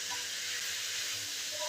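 Mixed vegetables for vegetable rice frying under a lid in a covered pan, making a steady, soft, close hiss of sizzling and steam throughout.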